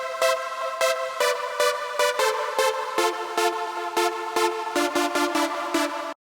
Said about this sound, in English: The first synth in the synth group is that very wide lead sound,